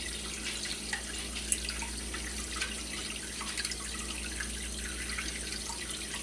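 Water runs steadily from a tap into a sink, filling around an upturned glass set over the drain, a constant close trickling hiss with faint drips and no speech.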